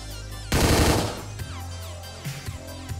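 A short, loud burst of gunfire in the top-down action game Hotline Miami 2 rattles out over the game's ongoing music, then fades into softer game sounds.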